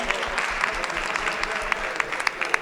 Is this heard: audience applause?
yes